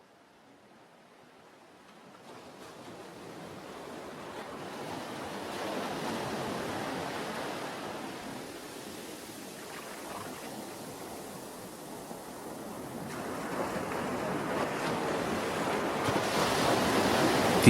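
Ocean waves and surf wash in steadily, a broad rushing roar that swells and recedes slowly, growing louder toward the end, with no voices.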